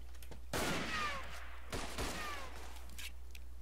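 Machine gun fire in the World War I shooter game Verdun, with two loud rattling bursts of gunfire over a steady background hum.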